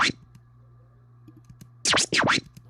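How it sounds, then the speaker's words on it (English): Turntable record scratching in a sampled track, two loud back-and-forth swipes near the end following quieter clicks and a steady low hum, no talking. "There's a little bit of record scratching here as well."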